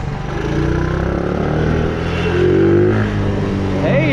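A small Honda TRX 70 ATV engine with flat tires runs steadily close by, its buzzing drone rising into revs, while a voice talks over the motor.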